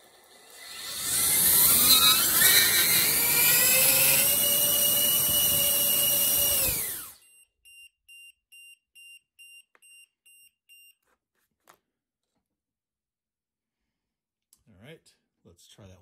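Motors of a cinewhoop drone with short ducts on a 4S battery spin up from a computer command: a loud, high, harmonic whine rises and holds for several seconds, then winds down, followed by faint clicks.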